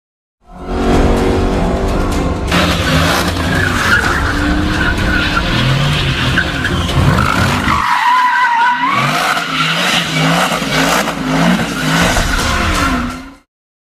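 Race car drifting on a 3D animation car rig, with loud continuous engine roar and sustained tire screeching and skidding throughout, briefly dipping near the middle before the squeal and revving resume.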